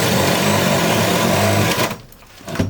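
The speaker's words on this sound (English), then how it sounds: "it's really hard to drill." A power drill whines loudly and steadily close by while drilling at an off-grid cabin build, then cuts out near the end with a short restart.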